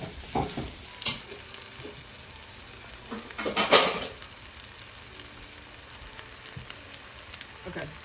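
Vegan burgers frying in a pan give a steady hiss of sizzling oil, with a few brief scraping and stirring knocks from utensils, close and fairly loud.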